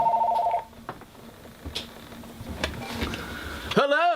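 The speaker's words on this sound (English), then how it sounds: "There's the phone again." A telephone rings with a short tonal burst at the start, followed by scattered clicks and handling noises while a voice talks intermittently, ending in a warbling electronic tone.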